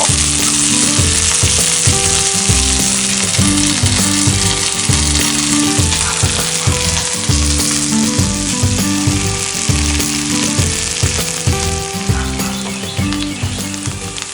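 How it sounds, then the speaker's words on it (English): Cabbage frying in butter in a cast iron pan gives a loud, dense, steady sizzle that runs unbroken through the whole stretch, with faint tonal sounds underneath. "just put the cabbage parts in mostly right now"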